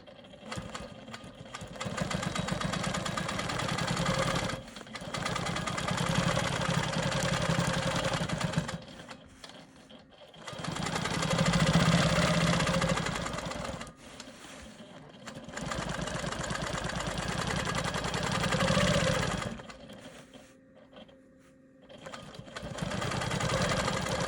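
A sewing machine free motion quilting the fill inside an Ohio Star quilt block, running in long steady bursts of rapid stitching separated by short pauses, close and loud with no talk.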